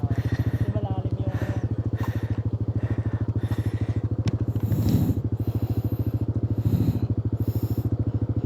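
A Yamaha NMAX V2 scooter engine pulses with a close, rhythmic rapid thrum on a dirt trail, steady throughout with brief revs, while people talk over it.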